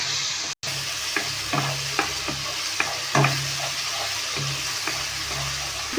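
Chicken pieces, fried earlier, tipped into a pan of frying garlic and spice mixture for chilli chicken gravy, then stirred with repeated scraping strokes over a steady close sizzle.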